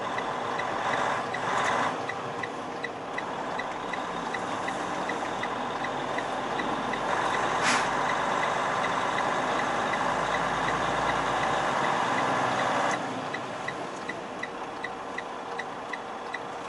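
A semi truck idles steadily in a yard after hooking up to an empty trailer, a constant engine rumble close by with a sharp air-brake hiss partway through.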